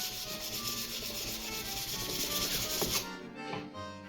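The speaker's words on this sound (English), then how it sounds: "Now I'm starting to sharpen the edge of the axe," The edge of a hand-forged Dane axe head is sharpened, producing a steady, close abrasive rasp with a rhythmic grinding pulse that runs for three seconds, then eases off into a quieter scrape.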